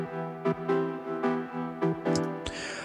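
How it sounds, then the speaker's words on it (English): Filtered saw-wave synth chords from Serum, their tops cut off by a low-pass filter, play a steady sequence of sustained stabs, close and alone, ending with a brighter noisy hit. "They're saw chords, but you can see that I have this on a filter"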